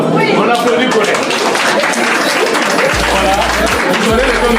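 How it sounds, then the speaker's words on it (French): Wedding guests at a customary ceremony applaud, clapping that runs continuously and loudly beneath an amplified voice talking over it, with low hum from the sound system. "On applaudit pour elle."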